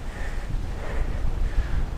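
Steady wind buffeting a microphone while cycling, a low rumbling roar that holds for the whole moment with no voices.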